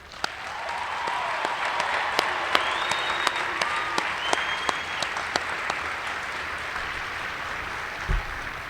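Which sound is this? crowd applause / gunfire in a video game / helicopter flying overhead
crowd applause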